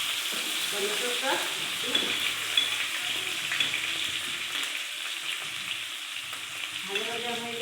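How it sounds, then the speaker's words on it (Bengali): Tomatoes sizzle and spatter in a hot pan with cumin and garam masala, part of a matar paneer made without onion or garlic. A steady close frying hiss runs throughout, broken by soft stirring scrapes and clinks. "তারপর দিয়ে দেব টমেটো"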